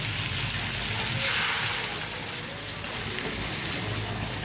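Water is poured into a pan of crab masala, making a continuous splashing rush that surges briefly early on, then settles into a steady stream.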